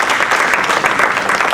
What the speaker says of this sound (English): But I think they deserve another round of applause